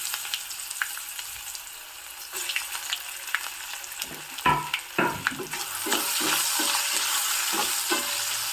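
Small-diced medium-sized potato frying in hot oil after tempering: a steady sizzle with irregular stirring scrapes and clacks in the middle, the hiss swelling louder and denser toward the end.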